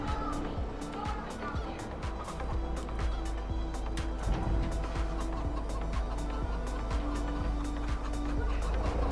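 Chickens in the Farming Simulator 22 video game cluck and chatter continuously at moderate volume, with sharp clicks and a low hum underneath and a person talking over them.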